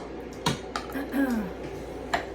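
A spoon scoops tomato sauce into a dish, with a few sharp metallic clinks against the dish and a soft wet scrape between them, close and fairly quiet, and a voice speaks briefly over it.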